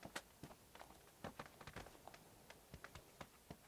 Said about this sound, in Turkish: Ayak sesi var.